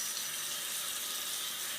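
Warm water runs from a tap for hand washing, a steady bright hiss that stays even and unbroken through a short stretch.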